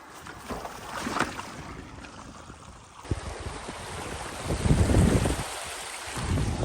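Water runs and splashes at a river crossing in the Cairngorms wilderness, with wind over the microphone and the flow surging louder toward the end, with no talking.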